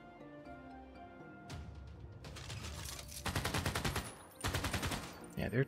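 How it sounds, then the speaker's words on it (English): Artillery firing in Civilization VI, loud rapid rhythmic volleys of shots in repeated bursts over quieter game music. "I will fire with all my artillery and see how far we can get"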